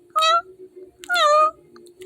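A kitten mews twice, a short cry followed by a longer one. Both are close and clear, with a faint steady hum in the background.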